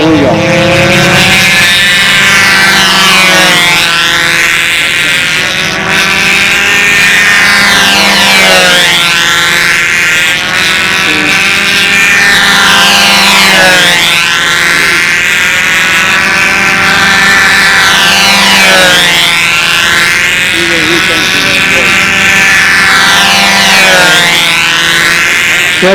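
A radio-controlled model Tigercat airplane flies at a contest in Hampton, Maryland, its engines droning loudly with repeated rising and falling pitch sweeps as it passes back and forth overhead in windy conditions.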